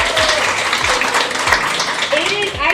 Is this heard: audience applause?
yes